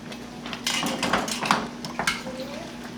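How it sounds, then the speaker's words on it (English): A pot lid comes off and glass canning jars are handled while making blueberry jam, with clinks, knocks and clatter of glass and metal close by over a steady background hum. "I'm opening up the other pot, and I'm going to get my first couple of jars out and get them ready"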